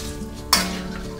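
Banana slices fry in hot butter with a soft steady sizzle, broken by one sharp clink of a utensil against the pan partway through.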